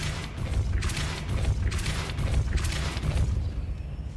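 The Depulso force spell cast in Hogwarts Legacy gives off a series of loud, booming magical blasts with crashing rumbles, several bursts close together over a steady dense low background, with no voices.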